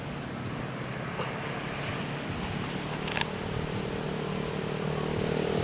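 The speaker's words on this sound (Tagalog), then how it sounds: "Laki na alon, no?" Big waves breaking at a beach beside an ATV rental spot, a steady broad wash of surf with wind, continuous and fairly loud, no talking.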